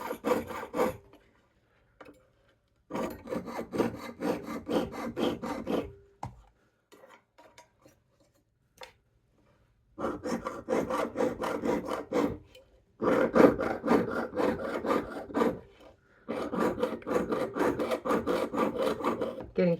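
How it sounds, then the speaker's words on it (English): A rotary burr carves wood in bursts of rasping, chattering grinding separated by short pauses, close and fairly loud with no talk. "Getting quite a bit of chatter, so I'll add more burr life."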